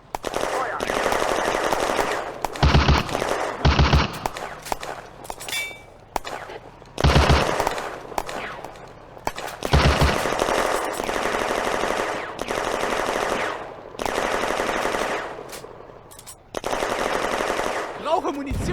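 Sustained machine gun fire from a Panzer IV-E suppressing a Soviet gun position in the World War II video game Firefight, loud, near bursts in rapid rattling strings with brief gaps, broken by heavier single shots.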